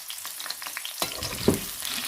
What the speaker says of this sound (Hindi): अब इसमें हम दूसरी सब्जियां डाल देते हैं। ये हमने आलू डाल दिया, थोड़ी देर तक इसको हम ब्राउन करेंगे